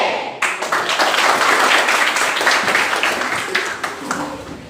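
A school class performing the Pancasila profile clap, many hands clapping together in a fast, rhythmic pattern that fills the room, with a faint voice underneath.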